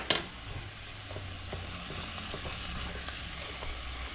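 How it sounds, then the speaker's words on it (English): Ground meat and onions fry in a pan with a steady low sizzle and faint scraping as the mixture is broken up, close and continuous, with one sharp clack near the start. "In go the onions. All right, so all we gotta do is break this up and soften down the onions."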